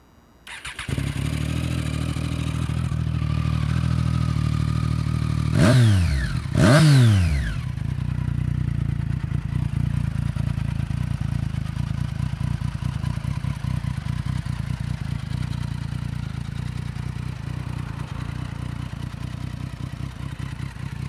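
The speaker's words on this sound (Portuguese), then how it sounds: "Queria mudar o ronco da moto para deixar aquele ronco bacana" A Triumph Street Triple motorcycle with an aftermarket Akrapovic exhaust idles with a deep rumble, then revs sharply twice before settling back into a steady, throaty idle.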